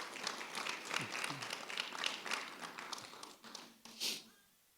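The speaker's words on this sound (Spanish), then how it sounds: "Dele un aplauso fuerte al Señor" A church congregation applauds during a Sunday service, a steady wash of clapping that swells and fades over several seconds, with a louder burst near the end before dying away.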